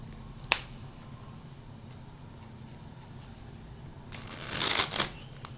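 A deck of tarot cards is shuffled, starting with a single sharp snap and ending in a short riffling burst of cards near the end over a low steady background hum.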